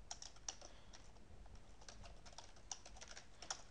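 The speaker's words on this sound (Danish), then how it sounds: "Så først skal vi lige have tastet matricen ind." Quiet keyboard typing as a matrix with many brackets is entered on a computer, scattered soft key taps with a few sharper clicks standing out, close and alone.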